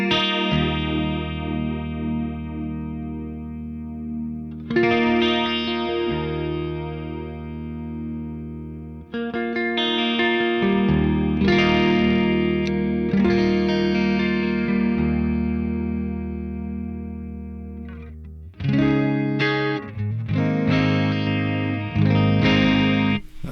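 Clean electric guitar played through the Neural DSP Archetype Gojira plugin with chorus switched on, giving shimmering sustained chords and note runs in several phrases, close and steady, with no voices.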